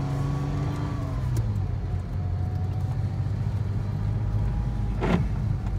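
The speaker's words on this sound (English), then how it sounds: "when you take the top down, you can hear the engine note." A Porsche Boxster convertible with the top down accelerates, and its engine note climbs in pitch as it revs through the gears. The sound is close and steady over road and wind noise.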